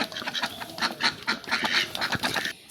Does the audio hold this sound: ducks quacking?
yes